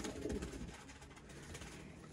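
Sialkoti golden kamgar teddy pigeons coo softly at a breeder's loft, faint low murmuring calls over a steady noisy background with no voices.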